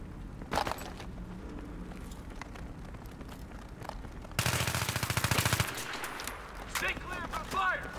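Gunfire in a video game shooter match, with single shots early on and then a loud sustained burst of rapid automatic fire. Other game sounds run around it and players talk over it.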